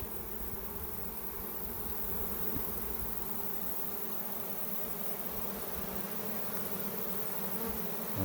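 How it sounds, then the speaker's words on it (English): A honey bee swarm returning to settle on a hive colony fills the air with a steady, dense buzzing that holds evenly from start to finish, close and continuous, with no voices. "I think that swarm is coming back here to land on this colony."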